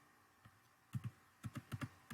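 Keystrokes on a computer keyboard while entering a debug linker flag in Visual Studio for C++ with SFML: about ten quick, close clicks in short clustered bursts over a faint room hiss, with no talking.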